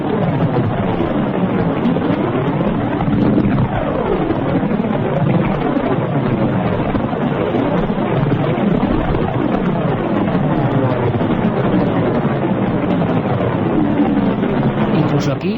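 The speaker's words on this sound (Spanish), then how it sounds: "Bueno, anillos de Saturno. Tantas veces los hemos dibujado y esta noche los escuchamos." Space recording of Saturn's rings rendered as sound: a dense, continuous roaring wash with sweeping rising and falling tones, steady and loud throughout.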